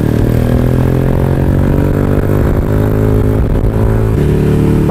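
A modified motorcycle rides along Karachi streets, its engine a loud continuous close-up drone with steady low rumble and no talk.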